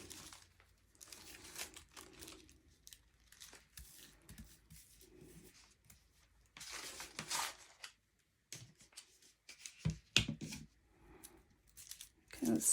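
A sheet of gelli-printed tissue paper being trimmed, giving soft crinkling and rustling handling noises with occasional sharper snips and crunches, close and quiet in uneven bursts.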